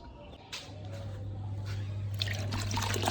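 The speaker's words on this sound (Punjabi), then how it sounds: "ਹੁਣ ਇਹਨੂੰ ਆਪਾਂ ਚੰਗੀ ਤਰ੍ਹਾਂ ਨਿਚੋੜ ਕੇ ਜੀ ਆ ਸਾਫ਼ ਪਾਣੀ 'ਚ ਇੱਕ ਦੋ ਵਾਰੀ ਕੱਢ ਲੈਣੇ ਆ ਜੀ" Fabric lining being wrung out and rinsed in clean water, giving a steady trickling and sloshing of water that builds slightly over a few seconds, close and alone.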